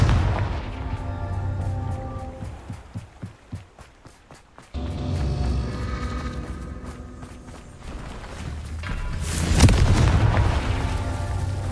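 Hogwarts Legacy Confringo fire spell explosions: a run of rapid thudding pulses, a sudden cutoff and restart, then a loud booming burst near the end over a steady game rumble.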